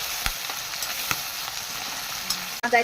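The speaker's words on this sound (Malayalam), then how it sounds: "വെളിച്ചെണ്ണ ചൂടായിട്ടുണ്ട് കടുക് ഇട്ട് കൊടുക്കാം" Steady sizzle of mustard seeds, garlic, ginger and chillies frying in hot coconut oil, with scattered sharp pops and crackles, fairly close, ending in a brief clatter.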